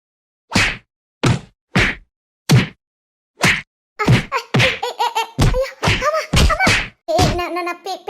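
A playful fight in which several sharp, isolated slaps or thwacks land on someone in a quick run of hits. Loud bursts of laughter and shouting follow and mix in with further smacks.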